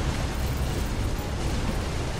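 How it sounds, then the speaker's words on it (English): Dense, continuous explosions from the Risk of Rain 2 video game roar loudly for about two seconds, a broad rumbling wash of blasts with no clear gaps and no voices over it. "it's just explosions"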